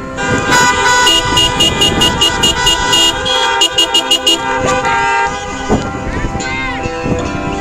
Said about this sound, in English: please join me in putting your hands together and honking your horns for Bryn Berry.